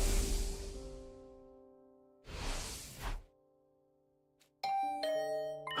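A doorbell rings inside the video game The Hundred Line Last Defense Academy: two rushing whooshes first, then a clear, loud multi-tone chime that lingers to the end.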